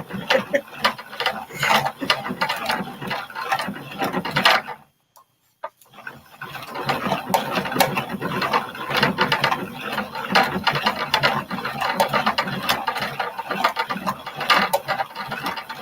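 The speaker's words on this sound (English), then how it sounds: "This is called a ball winder, a yarn ball winder." A hand-cranked yarn ball winder clicks and ratchets in a busy, rapid mechanical rhythm, close and fairly loud. It pauses for about a second partway through, then resumes cranking steadily.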